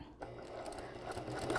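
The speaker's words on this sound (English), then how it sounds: "Now you see I'm stitching right on top of the previous stitching" A sewing machine runs steadily, stitching over a previous line of stitching on garment fabric while center back seams are joined, with a continuous close mechanical whir and a fainter voice in the background.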